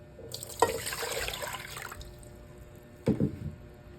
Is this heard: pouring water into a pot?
yes